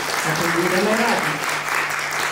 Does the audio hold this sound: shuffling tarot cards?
no